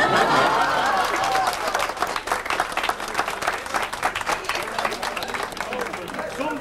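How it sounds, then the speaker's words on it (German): Audience applause at a Gautschen ceremony, the printers' tradition of dunking apprentices, with dense clapping that starts strong and stays steady under scattered voices and chatter. "Ihr müsst auch klatschen."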